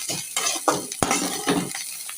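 A spoon scrapes and stirs fish eggs frying in a pan, with soft sizzling underneath and a few sharp clinks of metal against the pan.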